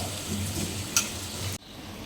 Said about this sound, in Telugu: టమాటాలు ఉల్లిగడ్డలు మంచిగా కలుపుకొని ఇందులోనే మంచి ఫ్రై ఫ్రై అవ్వాలి టమాటాలు